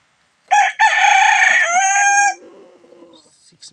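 A rooster crows loudly and close in a small backyard chicken coop, one full cock-a-doodle-doo call trailing into softer clucks from the flock.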